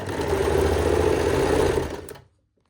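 An electric sewing machine runs in one continuous burst of about two seconds, stitching the front neck of a kurti or frock, then stops abruptly into silence. The steady mechanical hum sits close and fairly loud.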